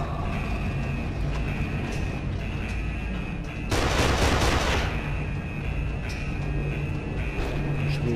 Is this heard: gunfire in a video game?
yes